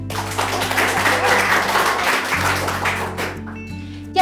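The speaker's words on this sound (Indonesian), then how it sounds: "beri tepuk tangan untuk kelompok 2" A school class gives a round of applause for a presentation group, a dense burst of clapping that fills the room for about three seconds and then thins out and stops.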